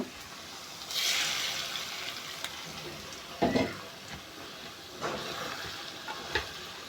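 Fried garlic, onion and chilli tipped into beef being cooked without water: a loud sizzling rush swells at once, followed by several sharp clatters and bursts of stirring with hissing between them, and no voices.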